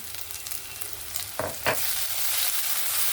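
Masala of ground spices with Kashmiri chilli sizzles steadily as it is fried in a pan for a prawn and ash gourd malai curry, with a couple of sharp stirring scrapes midway and the hiss swelling louder toward the end.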